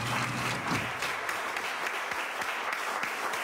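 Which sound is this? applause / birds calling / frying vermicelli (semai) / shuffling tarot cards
applause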